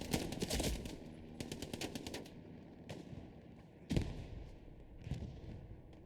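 Gunfire in the Hell Let Loose video game during a competitive match, with rapid automatic bursts and single shots. The shots are loud and close, and a commentator talks briefly over them.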